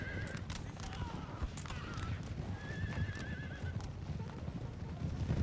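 Hussar cavalry charge in Napoleon Total War, a dense rolling clatter of many galloping hooves with repeated high horse whinnies and neighs over it, steady and busy throughout, with faint voices underneath.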